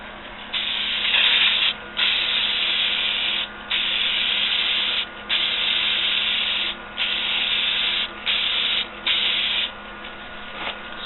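Aerosol rattle can of clear coat spraying a second coat in sweeping passes, a loud close hiss in repeated bursts of one to two seconds separated by brief pauses.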